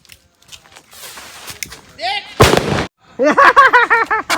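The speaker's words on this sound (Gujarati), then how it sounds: "આ ધમાકો કેવાય" A single sharp, loud firecracker bang bursts out amid people talking, followed by brief rumbling noise before the voices continue.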